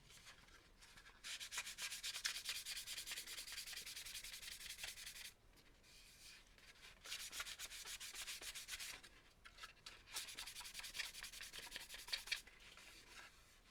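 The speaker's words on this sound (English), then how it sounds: "a well-worn sort of polishing cloth. So let's do this dry." Well-worn polishing cloth rubbed dry over a primed model surface, a soft close swishing in three long sustained bursts separated by short pauses, with no voices.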